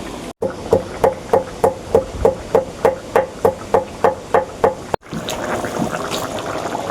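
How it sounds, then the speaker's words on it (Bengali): Garam masala spices are pounded on a shil-nora stone slab with about a dozen evenly spaced, close knocks, then a continuous gritty grinding rub as the stone is worked back and forth. "এই গরম মশলা এখন বেটে নিব এগুলো অনেকে গুঁড়ো করে দেয় গুঁড়ো করে দিলেও হবে তবে আমি বেটে দিই এগুলোকে আমি এখন সিল নুনতে বেটে নিই"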